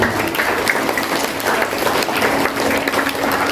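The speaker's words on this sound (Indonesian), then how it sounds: "Boleh berikan tepuk tangan dari sekali." Applause from a school audience at a sixth-grade closing event, a dense, steady wash of many hands clapping at close range throughout, with no pauses.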